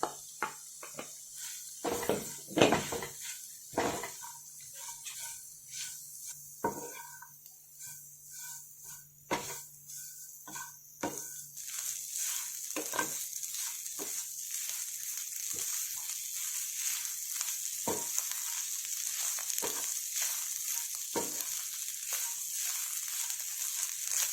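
Soft sizzling of minced beef frying in a pan with pepper powder and garam masala, a steady hiss with scattered clinks and scrapes of stirring, faint and close, no talking.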